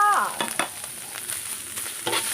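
Preserved radish stir-fried in a hot pan, giving a steady close sizzle with brief scraping stir strokes over a bright high hiss.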